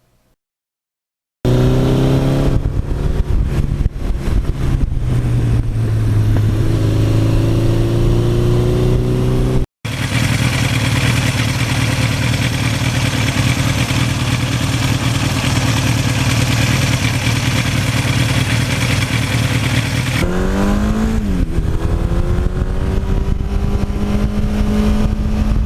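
A 1982 Suzuki GS1100E motorcycle with 74,000 miles idling loud and close, a steady throbbing engine note with a blip of revs partway through and a short drop-out before it settles back into a rough, even idle.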